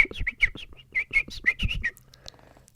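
A person whistles an imitation of a bird call, a quick run of close, sharp chirping notes followed by a faint trailing sound.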